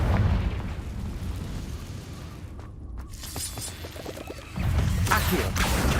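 Confringo explosion spell in the video game Hogwarts Legacy: dense crashing and shattering blast noise over a steady rumble, with a heavier burst near the end.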